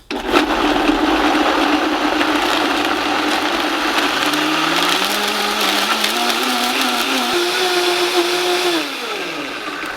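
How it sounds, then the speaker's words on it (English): A blender whirs loudly and steadily blending pandan leaves with water, its motor pitch shifting slightly as the contents churn, then easing down just before the end. "Go ahead and blend this until this is completely smooth."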